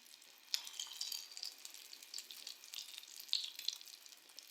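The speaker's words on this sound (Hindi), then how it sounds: "अभी जो है मैं एक और कबाब डाल रही हूँ तवे पे।" Chicken shami kababs fry on a griddle, giving a faint, soft sizzle with scattered little pops and crackles.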